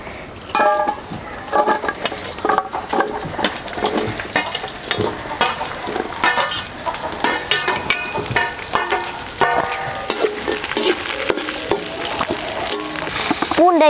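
Onion and garlic sautéing in hot oil for prawn Manchurian, a busy close sizzle with frequent clattering stirs and utensil knocks, with faint voices in the background.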